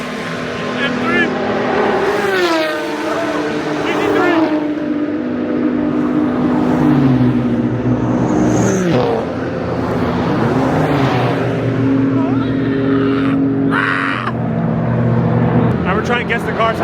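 Several race cars, including GT3 cars, roar past one after another at Fuji Speedway, engines rising and falling in pitch as they sweep by, with voices talking in between.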